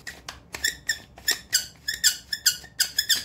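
A screw-up pump on a Creamy retinal cosmetic bottle squeaks sharply and repeatedly, about a dozen short close-up squeals in an irregular rhythm, with no talking.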